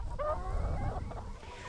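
Hens cluck steadily close by while scratching and foraging outdoors on a free-range farm, their calls overlapping throughout with no talk.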